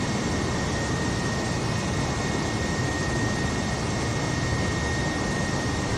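A Tunisian airliner with one engine on fire flies over Algiers while trying to land, producing a steady, broad roar of aircraft engines that stays loud and unbroken throughout, with no voices.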